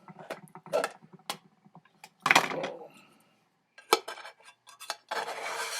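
A spatula clatters and scrapes inside a Triangia non-stick fry pan with a folding handle, giving a few sharp metallic clinks and taps in separate bursts, close and moderately loud, with quiet pauses between.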